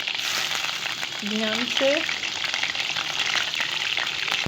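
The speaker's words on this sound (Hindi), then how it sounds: "इसके बाद तेल गरम हो जाए, हम चिकन डालेंगे।" Chicken sizzles in hot oil for a village-style chicken curry, a steady, close frying hiss that runs the whole time, with a brief voice speaking over it.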